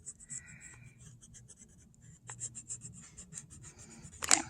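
A colored pencil scratches across paper while drawing a fence, with close, dry, quiet strokes in short bursts and brief pauses, ending in a sharper scrape.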